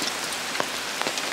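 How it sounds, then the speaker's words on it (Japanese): Heavy rain falling on a mountain near a large shrine gate in Ibaraki, Japan, a close, steady wash of downpour with a few sharper drip and splash accents, brief and without voices. "山に来たらすごい雨降ってる。"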